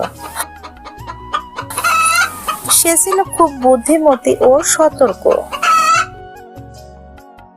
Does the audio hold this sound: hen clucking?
yes